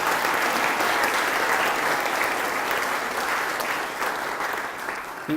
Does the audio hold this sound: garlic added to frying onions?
no